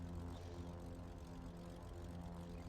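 Low propeller drone of an AI traffic general-aviation airplane in the X-Plane 11 flight simulator, heard from a King Air 350 cockpit, a steady hum with engine tones throughout.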